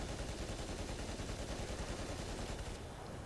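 Rapid, dense gunfire-like bursts fill the scene in the War Thunder video game around a T-90 tank firing an APFSDS round, a loud steady barrage of overlapping shots with no talking.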